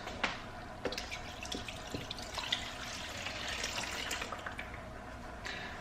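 Water runs from a tap into a container to mix a barber-tool cleaning solution, a steady splashing fill with scattered drips and small clinks, close and moderately quiet, with no voices.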